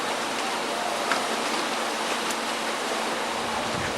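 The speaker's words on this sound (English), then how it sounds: "Water goes underneath and comes out right there." Steady rushing water from a walleye hatchery pours and splashes without pause into Scriber Creek, a close, even hiss like a small outflow spilling into a stream.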